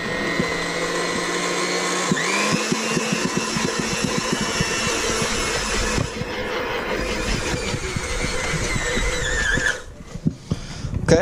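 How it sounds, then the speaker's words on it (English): An electric mixer whirs loudly and steadily through flour and eggs in a mixing bowl for crepe batter, its pitch shifting as the motor speeds up, with rattling beats against the bowl before it cuts off near the end. "we're going to put the 1 cup of flour into a mixing bowl and add our 2 eggs, and we're just going to go ahead and mix those together well"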